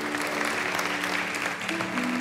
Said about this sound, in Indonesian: boleh kasih tepuk tangan buat para volunteers kita sekali lagi.